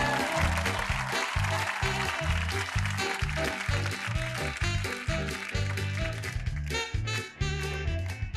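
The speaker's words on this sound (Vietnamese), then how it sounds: "Xin mời quý vị dành một tràng pháo tay để đón chào họ" A TV show studio audience applauds to welcome a couple. The dense clapping runs throughout over a loud, pulsing music beat.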